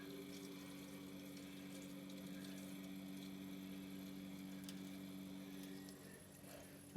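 A newly installed deep well water pump fills a house's water system, giving a steady, even mechanical hum with a constant tonal drone and faint water rush, unbroken and fairly quiet throughout.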